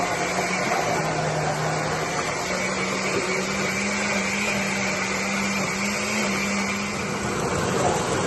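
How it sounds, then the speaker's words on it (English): A kitchen blender whirs steadily while blending Haitian épis seasoning, a loud continuous motor drone with a faint humming pitch that holds for the whole stretch. "that's the blender I use for that's the only thing I do in this blender right now"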